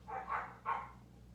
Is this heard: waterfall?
no